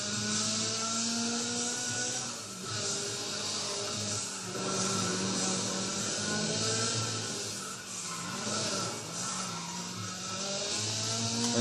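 A car drifts in the racing game Need for Speed ProStreet: a loud, continuous engine roar with tires squealing and skidding throughout, no voices.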